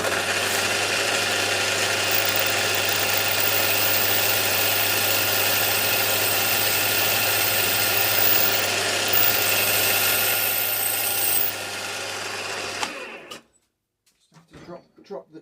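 A drill press runs steadily, dropping slightly to bore into a bracket on a live steam model workshop build, a loud continuous motor whine and grind that cuts off abruptly near the end, followed by faint clatter.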